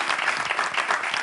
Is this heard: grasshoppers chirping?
no